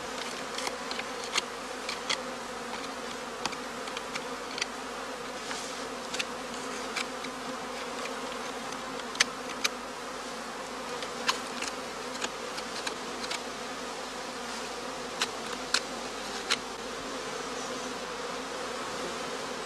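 Honey bees buzz continuously in a dense, steady drone around the entrance of a straw skep on the northern German heath, with occasional louder passes of individual bees close by and no voices.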